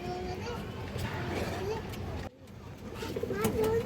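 Domestic pigeons cooing in a loft, soft throaty coos rising through a close, busy background where a person talks throughout.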